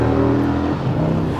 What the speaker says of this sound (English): Does the exhaust sound louder? Oh yes it does.